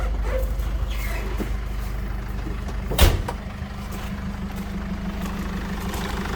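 A 2006 Mercedes Sprinter 413 diesel van engine idles steadily with a low rumble and a sharp clunk partway through, then keeps running evenly.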